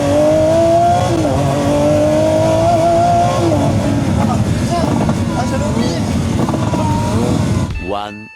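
A Lamborghini Aventador engine revs loudly up and down in rising and falling sweeps, close and dominant, before cutting off abruptly near the end.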